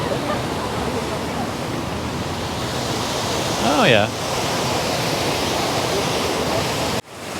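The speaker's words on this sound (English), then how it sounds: "Up close with the fountain. I guess a fountain and waterfall combination." A fountain and waterfall combination splashes loudly and continuously up close, a dense rushing wash of water with a brief voice speaking over it partway through.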